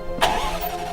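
Supercharged 5-litre V8 in a 2020 Jaguar F-Type R cranking and catching in one sharp burst, then settling into a steady, rumbling idle close by, with no talking.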